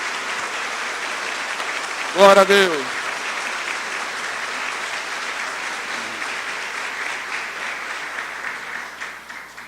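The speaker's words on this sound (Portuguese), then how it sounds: "Agora eu esperava um aplauso para Deus e você não aplaudia." A church congregation applauds in sustained, even clapping that fills the whole stretch and slowly thins toward the end, with a voice briefly calling out over it near the start.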